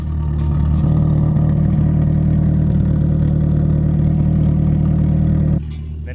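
A Ford Pinto rat rod engine runs steadily through an exhaust with an angle-cut baffle tip, a loud, even low rumble with rapid clattering pulses that cuts off sharply near the end.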